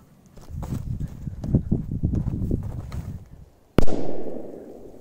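A rapid crackling string of small firecracker pops on loose soil, followed by one sharp loud bang that rings out and fades.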